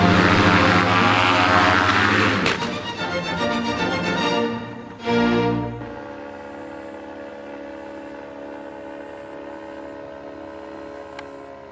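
A paramotor engine at a paraflyers' gathering, loud and droning with a propeller buzz, revving and wavering before a short burst, then settling to a steady lower idle hum.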